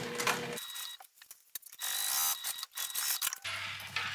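A sewing machine stitches a full seam from one side of the fabric to the other for a buggy sling, with quiet bursts of rapid mechanical whirring broken by short pauses.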